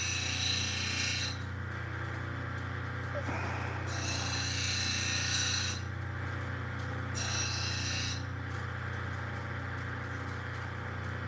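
Ethiopian opal being sanded on a motorized wheel, a steady gritty rubbing rasp over a constant low motor hum, with the stone pressed on and lifted off in intervals.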